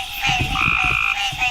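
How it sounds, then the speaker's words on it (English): A green tree frog calls in repeated, close, nasal croaks, a quick series of pulses standing clearly alone. "This is a green tree frog."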